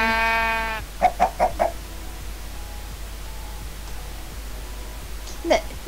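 Sheep in the Minecraft video game bleating in a short series of four quick bleats, then one more after a pause, with a faint steady hiss underneath.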